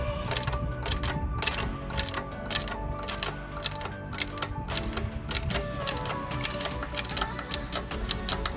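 A hydraulic press pressing a control arm bushing out through square tubing and a socket gives steady, rhythmic metallic clicks and ticks throughout, close and fairly loud.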